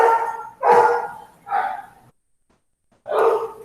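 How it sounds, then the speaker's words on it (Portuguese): A neighbor's dog barks loudly and close, several bursts in a quick run, then a pause before one more bark. "Tem o cachorro do vizinho latindo aqui."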